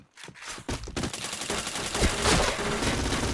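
Rapid automatic gunfire in the online shooter game Point Blank, bursts of dense, loud shots building into a continuous fusillade after a few quick opening bangs.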